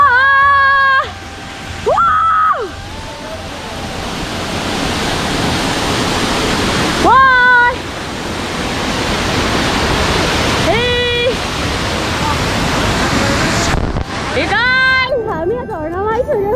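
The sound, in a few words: Jhor waterfall near Kathmandu roaring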